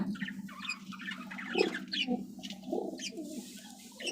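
Pigeons kept at home cooing softly in short repeated murmurs, fairly quiet against a low background hum, with no talk.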